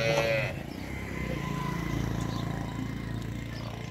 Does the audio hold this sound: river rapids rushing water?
no